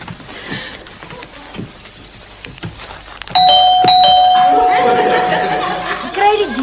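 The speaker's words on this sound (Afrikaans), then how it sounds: "Die klokkie lei altyd ewe hard behalwe wanneer die batteries pap is." A cartoon doorbell rings loudly with a bright electronic ding-dong chime that sustains and slowly decays, following a stretch of quieter background sounds.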